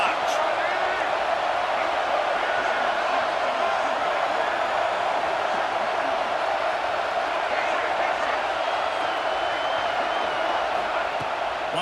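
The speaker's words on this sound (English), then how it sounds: "this crowd is turning it up a notch" A packed football stadium crowd roars during a Florida at Ohio State game, a dense, steady wall of noise that holds throughout, with a commentator's voice over it.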